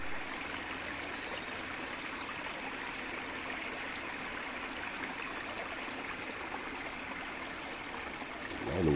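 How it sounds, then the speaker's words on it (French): A small stream flows steadily, a soft continuous babble of water with no voices, heard from close by at moderate volume. "Ici, tout chante. Hein. Le ruisseau,"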